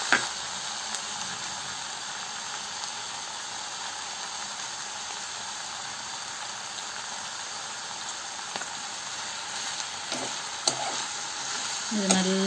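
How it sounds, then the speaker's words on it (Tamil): Chopped tomatoes sizzle steadily in a hot pan for a South Indian okra kara kuzhambu while a spoon stirs them, the even frying hiss broken by occasional scrapes and clinks near the end. "இப்போ நம்ம வந்து தக்காளி சேர்த்துக்கலாம் நல்லா கிளறி விட்டுக்கோங்க"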